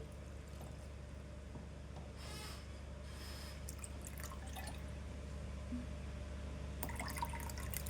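Water splashes and trickles into a burnt, blackened milk pot in short bursts over a constant low electrical hum.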